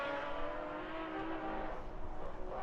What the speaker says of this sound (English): And some high revs